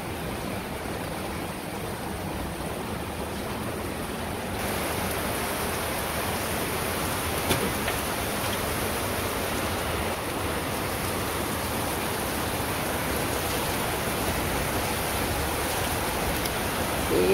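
Steady, dense rain pours down in a village, a continuous broadband hiss of drops on surfaces that holds at an even, fairly loud level throughout with no voices.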